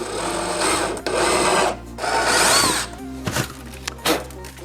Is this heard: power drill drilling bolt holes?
yes